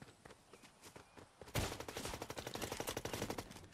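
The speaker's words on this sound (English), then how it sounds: "he's shooting at me" A rapid burst of video game gunfire starts suddenly and continues as a loud, fast series of repeated shots, after quieter distant shooting in the first moments.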